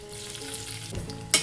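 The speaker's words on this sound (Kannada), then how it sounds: "ನೋಡಿ ಈ ಥರ ಒಗ್ಗರಣೆನ ಹಾಕೋಣ" Seasoning sizzles in hot oil in a pan as tempering for a poha and green pea dish, a steady close crackle ending in a sharp burst.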